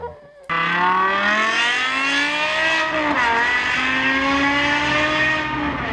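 A high-revving V10 engine in a BMW M5 screams loudly and continuously, pitch climbing, dipping briefly, then climbing again, heard close up with no talking.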